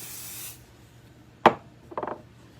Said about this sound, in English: I might add just a little more spray to the back of this